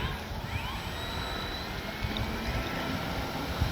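An E-flite 1100mm T-28 RC airplane takes off outdoors, its electric motor a faint rising whine over wind noise and low rumble, with a voice briefly audible.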